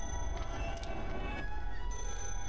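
A telephone rings in the analog horror game Silkbulb Test. The ring is a steady, bright, sustained tone that stays loud and continuous over a low rumbling background, with no talking.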